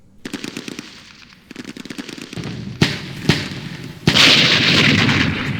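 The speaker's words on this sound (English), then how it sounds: "we're dropping all rounds on the police fortress" Machine-gun bursts and heavy artillery shelling pound a police fortress in the Campaign Series Middle East war game, with rapid rattling volleys followed by several sharp booming impacts and a sustained roar of fire at the end.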